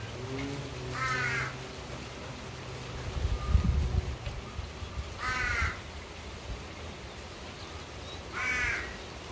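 Crows caw outdoors in three separate bursts of harsh, repeated calls, moderately distant, over steady wind noise and a low rumble.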